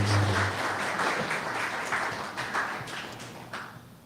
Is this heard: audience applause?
yes